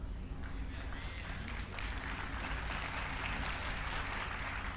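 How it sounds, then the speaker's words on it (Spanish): Applause from a church congregation during a sermon on the end times, a steady dense wash of clapping that holds at an even level throughout. "Agradezco los aplausos"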